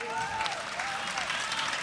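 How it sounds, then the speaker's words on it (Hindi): Audience applause at a Hindi-Urdu poetry recital with a steady wash of clapping, while a sung or spoken voice carries on over it. "एक बार जोरदार तालियां बजा के मुझको"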